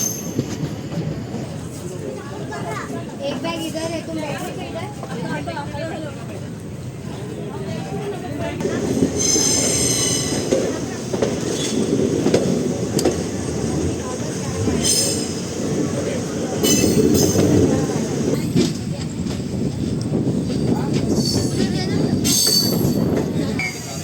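Kamban Express passenger train running after departing Nagapattinam Junction at night: a steady loud rumble of wheels on rails with rhythmic clacks and intermittent squeals, heard from on board.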